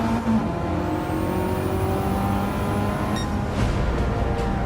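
A race car's engine pulls hard and climbs in pitch as it accelerates on track in Gran Turismo 7, loud and close, with a brief shift then more revving, and no talk.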